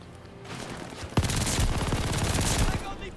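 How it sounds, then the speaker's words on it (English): MG42 machine gun firing in the Call of Duty Vanguard beta, a loud, very rapid ripping burst of automatic fire lasting about two seconds after quieter game ambience. "That MG42 is nuts."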